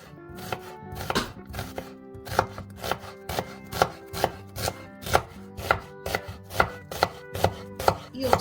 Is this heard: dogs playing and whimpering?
no